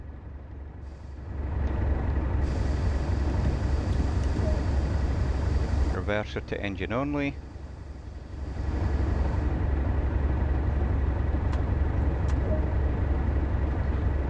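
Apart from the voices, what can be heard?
train locomotive engine noise in Train Sim World video game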